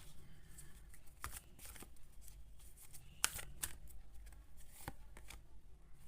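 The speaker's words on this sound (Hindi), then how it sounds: "मैं निकालती हूँ एक और कार्ड।" Tarot cards handled and drawn from a deck: close, crisp flicks and riffling slaps in irregular bursts, with one sharp snap standing out.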